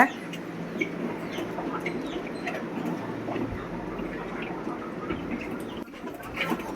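A flock of chickens clucks softly while eating sprouted pearl millet and sorghum, with scattered short calls over a low, steady background murmur.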